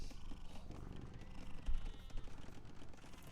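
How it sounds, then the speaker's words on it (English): A house cat purrs close to the microphone, a quiet, low, continuous rumbling throb that stays faint and steady throughout, with no voices. "you can still enjoy the fact that we have a cat and you can barely perhaps hear it"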